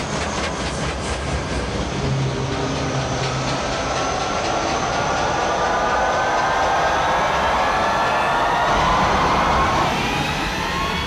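A train rolls past on rails. The steady loud rumble and rail clatter carry on without a break, with a faint rhythmic clickety-clack and no voices.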